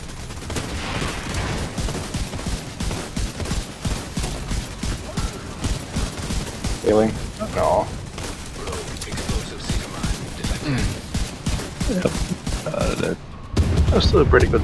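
Sustained gunfire as a squad shoots at a boss in a video game, rapid continuous shots with occasional booms, heard under frequent voices talking over the fight.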